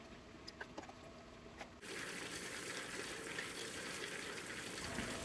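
Water gushes into a rock tumbler barrel holding about a tablespoon of borax for a cleaning cycle. A few faint clicks come first, then a steady, close pour runs to the end.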